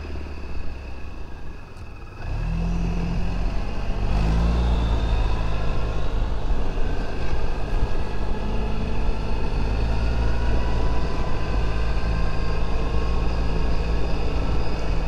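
A Suzuki Burgman 650 scooter starts moving, its engine rising from a low idle into a steady drone with wind rush as it rides along the road, close and continuous.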